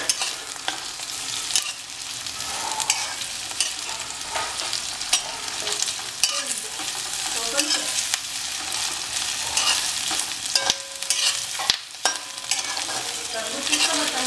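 Chilli chicken tossed and stir-fried over a high flame, a continuous bright sizzle with repeated spatula scrapes and knocks against the pan, close and fairly loud, no voices.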